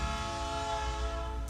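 A train passing outdoors near a garden, its horn sounding as a steady, sustained tone over a low rumble throughout, with no voices.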